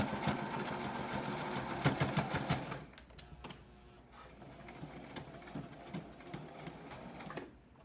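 A sewing machine stitches a pillowcase apron, then backstitches: fast loud rhythmic needle clatter for about three seconds, then quieter, slower intermittent stitching and mechanical clicks to the end.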